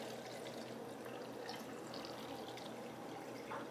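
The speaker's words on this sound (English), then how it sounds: "Pour that in, and then fill it with distilled water so that it covers the film." Distilled water poured into a film developing tank gives a soft, steady trickling and filling sound at low level for a few seconds.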